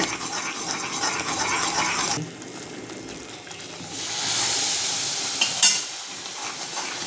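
A jackfruit Mysore pak mixture froths and sizzles in hot ghee or oil with a continuous crackling hiss, stirred now and then, and the frying swells louder in the second half with a brief clink near the end.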